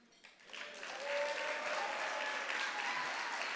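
Audience applause at the 2022 San Antonio Business Hall of Fame event, rising quickly from quiet into steady, dense clapping from a large crowd in a hall that holds evenly for several seconds.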